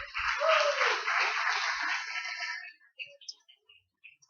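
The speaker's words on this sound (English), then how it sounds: "All right, round of applause for Millie." Audience applause at a live presentation, a broad wash of clapping that starts immediately, holds steady for a couple of seconds, then thins out into scattered claps.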